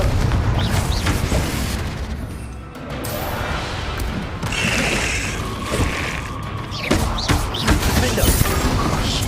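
A Confringo blasting spell exploding in the video game Hogwarts Legacy: loud booming blasts and crashes amid continuous combat noise, with a brief dip before the blasts resume.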